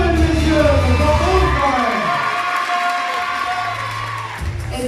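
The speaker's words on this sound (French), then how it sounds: "Allez, applaudissez, bravo, mesdames et messieurs, bravo" A crowd at the Miss Lens 2023 pageant applauds and cheers, with shouts and whoops over dense clapping and a low hum near the end.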